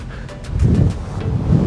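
Strong coastal wind in South Australia roars and buffets the microphone in loud gusts that build toward the end, with no talk.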